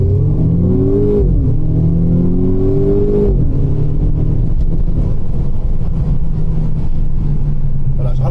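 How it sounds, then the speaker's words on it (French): Renault Clio 4 RS in sport mode, engine revving hard twice with rising pitch sweeps, then settling into a loud steady drone with rumble, recorded from inside the car, with no voices. "T'entends le bruit du moteur là?"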